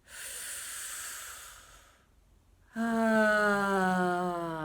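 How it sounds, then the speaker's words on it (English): Breathing through a straw with pursed lips during a vocal exercise: a long airy inhale hiss, a brief pause, then an outbreath voiced as a steady rising tone, close and clear with no talk. "the straw breath with a pursed mouth"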